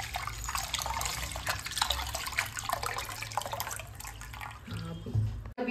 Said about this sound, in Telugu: బియ్యం అయితే నీట్గా కడిగేసుకున్నానండి.